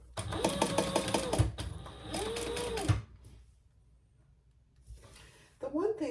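Sewing machine stitching a vinyl handbag with chocolate brown thread: two close bursts of rapid mechanical whirring and needle clatter, a quiet pause, then another short run starting at the end.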